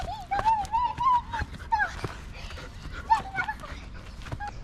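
An excited dog whimpers and yips in rising, wavering cries as it greets someone in the morning, the calls coming in bursts close by alongside scuffling movement.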